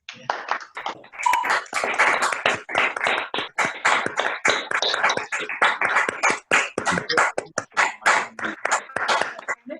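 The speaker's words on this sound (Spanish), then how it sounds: "Ahora os activo a todos el micro para que podamos despedir con una fuerte ovación a Santi" Dense, continuous clapping from online conference participants over open microphones, bidding farewell to Santi Gené, with many overlapping claps in a steady rapid patter that carries through to the end.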